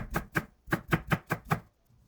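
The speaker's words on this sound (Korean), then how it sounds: "대파 흰대 부분도 조금만 총총 썰어줍니다." A knife chops the white part of a green onion on a cutting board in about eight quick, evenly spaced, crisp strikes, then falls quiet.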